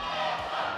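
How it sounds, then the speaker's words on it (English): A large esports arena crowd at an MPL Philippines Mobile Legends match roars and cheers continuously in a brief, dense burst of massed voices. "Hear the crowd."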